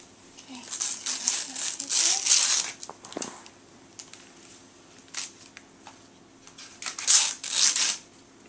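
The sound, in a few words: gift wrapping paper being ripped off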